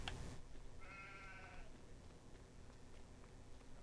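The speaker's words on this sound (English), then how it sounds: "In here is the sheep barn." A single sheep bleats once in a barn in Farming Simulator 22, a short wavering call standing out over a steady low background hum.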